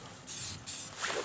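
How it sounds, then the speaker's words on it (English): Two short hissing bursts from a spray paint can, separated by a brief pause, close and fairly quiet. "That's basically all we're going to do is just spray paint it with"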